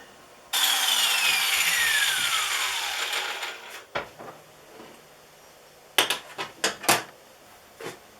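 A power saw cuts the ends off a metal part, with a loud descending whine as the blade spins down over about three seconds, followed by a few sharp knocks and clanks of handling the metal.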